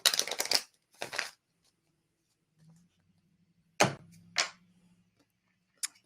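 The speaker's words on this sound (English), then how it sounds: "All right, Sandy, let me shuffle this again for you and see what comes up." Tarot cards being shuffled in short, crisp bursts of riffling and slapping close to the microphone, separated by silent pauses and a faint low hum.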